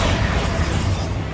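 A Bombarda blasting spell goes off in the Hogwarts Legacy video game, a loud, rumbling explosive burst filling the whole short moment.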